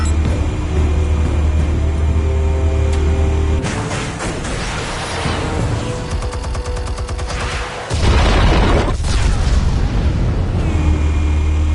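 Explosives detonating in the Batman Telltale game, a roar of blasts and rumbling debris that swells over several seconds between stretches of steady low ambient hum, loud and close.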